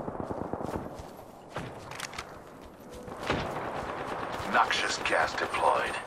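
Gunfire from Apex Legends: bursts of shots scattered across a busy game mix, with footstep-like clatter and louder bright effects toward the end; no talk in the clip.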